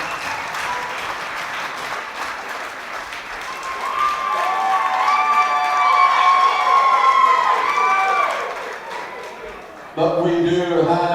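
Crowd applause with cheering and whistles fills a kickboxing venue after a fight, swelling loudly across the middle and continuing around ringside talk.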